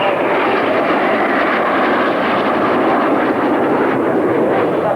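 An Alpha Jet flies past at an air base display, a loud, continuous broadband jet roar that holds steady throughout.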